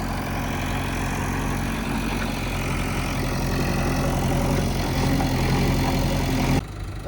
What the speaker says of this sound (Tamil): ஜேசிபி கிளம்புது